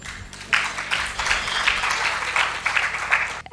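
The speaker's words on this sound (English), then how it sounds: "So I deserve a clap." Applause rises from an audience at an insurance agents' awards ceremony, a dense patter of clapping that swells and stays steady for a few seconds at moderate volume.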